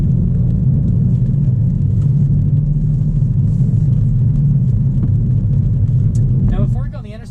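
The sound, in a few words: 2019 Hyundai Elantra GT N Line driving on the interstate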